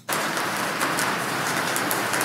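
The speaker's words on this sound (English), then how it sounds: "Rain and metal roof with distant thunder." AI-generated sound of steady, dense rain drumming on a metal roof, loud and close, with a faint low rumble of distant thunder beneath it and no voices.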